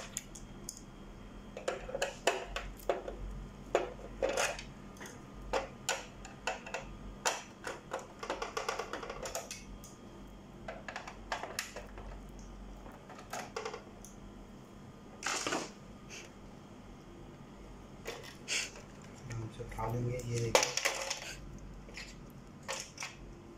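Small screws being removed from the cover of an HP Scanjet 3110 flatbed scanner during repair, heard as scattered faint clicks, taps and scrapes of a screwdriver on plastic, fairly close, with no speech.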